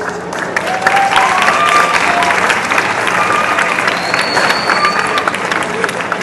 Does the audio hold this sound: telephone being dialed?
no